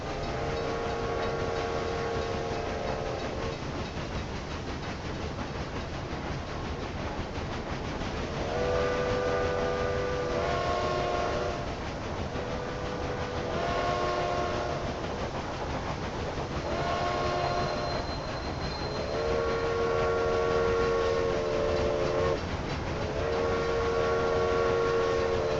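A train rumbles steadily along the rails in the railway building game Railway Empire 2, its horn sounding several times in long tonal blasts over the continuous rolling noise, with no talk.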